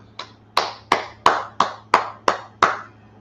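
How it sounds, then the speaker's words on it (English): Sharp, evenly spaced hand claps, about eight in a row at a brisk steady rhythm, close and crisp with short ringing decays, from a group at a brotherhood class with no talking over them. "go ahead and clap it up."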